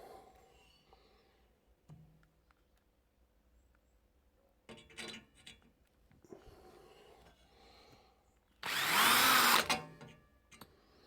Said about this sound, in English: I'm going to attempt to drill some pilot holes